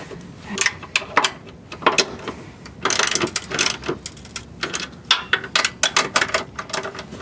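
A ratchet tightens bolts on a step rail on a 2013 Nissan Xterra, giving close, rapid clicking bursts in uneven runs with short pauses between strokes.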